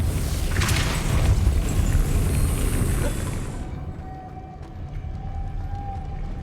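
Hogwarts Legacy spellcasting of Depulso: a loud whooshing blast with a sharp onset that rumbles and fades after a few seconds, leaving quiet ambience and a faint tone.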